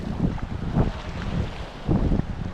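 A small outrigger boat pushes through strong waves in heavy wind, with gusting wind noise buffeting the microphone and periodic surges of water and hull rumble, close and rough.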